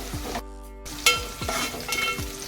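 Onion cooking down in a pot for a spicy Agri-style mutton curry, with a steady close sizzle broken by several scraping stirs of a spoon against the pot.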